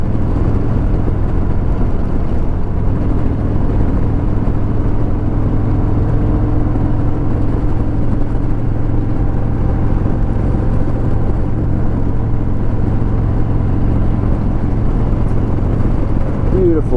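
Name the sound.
motorcycles riding in the Black Hills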